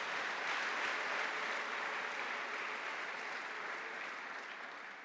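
A church congregation claps steadily for an athlete who won a trophy, a dense, continuous roar of many hands that holds for the full length and eases slightly at the end.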